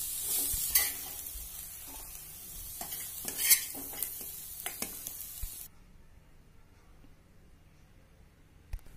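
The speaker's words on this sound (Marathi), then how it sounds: "हे सगळं एक दोन मिनिटं परतणार आहे" A spice mixture with cumin powder is stirred and sautéed in a pan for a traditional Marathi sandge bhaji, with steady sizzling and a spoon scraping the pan. Both stop after about five seconds, leaving near silence.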